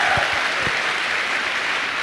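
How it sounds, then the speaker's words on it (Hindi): An audience at a Modicare success event claps loudly and continuously, with a few sharp individual claps standing out at the start before the dense applause settles evenly. "मैं चाहूँगा उनके लिए एक बार जोरदार तालियां हो"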